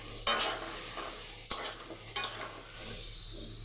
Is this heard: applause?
no